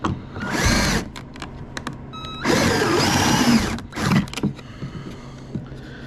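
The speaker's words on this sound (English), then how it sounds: "you can also end up drilling too far, pretty much drill right through everything" Power drill boring through wood: two long, loud whirring runs separated by short on-off pulses, with the motor whine rising and falling in pitch.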